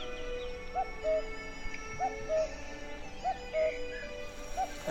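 A stray dog at a black tea hill village in Fujian's tea country gives repeated short whimpers and yips, four brief whining bursts spaced about a second apart over a steady ambient background.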